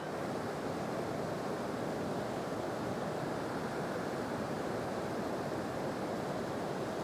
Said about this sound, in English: And enjoying the sound of the creek